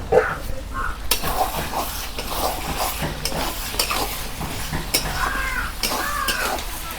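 Chicken and masala frying down in a pan for village-style Bengali smokey chicken: a loud, continuous sizzle with frequent scraping and clattering as a spatula stirs against the pan.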